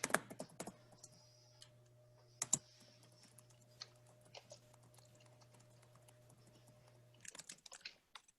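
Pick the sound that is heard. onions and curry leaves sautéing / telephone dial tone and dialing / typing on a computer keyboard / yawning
typing on a computer keyboard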